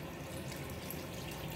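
Water being poured into a cooking pot of pork hamonado, a soft steady splashing pour heard alone at close range.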